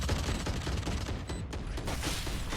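Bursts of gunfire fill a Valorant esports match between Riot's Angels and Team Sugoi, with dense overlapping rapid shots and weapon clatter running loud throughout, no voices on top.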